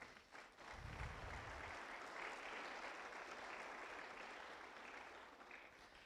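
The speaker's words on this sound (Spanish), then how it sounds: "Dale palmas a Él." A church congregation in Cuenca, Ecuador claps together in a dense, sustained burst that swells after a short pause and holds steady, heard from some distance with little else over it.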